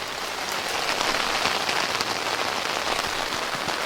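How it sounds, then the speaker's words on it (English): Heavy rain pouring down in a steady, dense downpour, a loud continuous hiss of drops drumming on surfaces with no break and no voices. "Dude, the rain is being crazy. It's downpouring right now."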